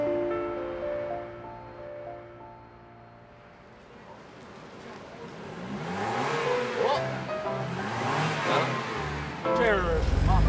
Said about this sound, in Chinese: GLK300 奔驰啊。